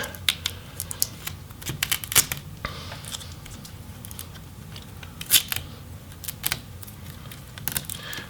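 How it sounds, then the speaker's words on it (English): Crackly, uneven bursts of adhesive tape being peeled off a computer motherboard, close and fairly quiet, with small sharp ticks and rips scattered through and no speech. "Alright, so we're going to need to remove some tape."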